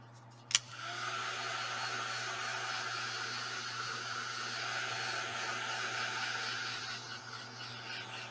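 A hair dryer clicks on and blows steadily and loudly, drying paint medium on a moulded vintage door, a constant close whoosh and hum with no talk.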